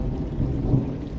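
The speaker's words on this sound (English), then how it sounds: "listen to that thunder" Rolling thunder rumbles low and steady through a rainstorm, a continuous deep growl with the hiss of falling rain underneath, fairly close and full, with no voices.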